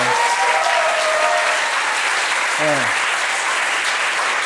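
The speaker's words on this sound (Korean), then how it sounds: "박수 한번 주세요." Sustained applause from a church congregation at a Wednesday worship service for the young woman who interpreted the sermon, a thick, even wash of clapping with a brief voice rising through it.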